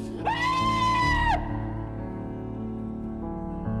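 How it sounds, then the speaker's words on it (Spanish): A man screams in desperation during a film scene about a prisoner held captive, one loud sustained wail that breaks off, followed by lower background sound. "Anwar sufre al estar encerrado y emite gritos de desesperación."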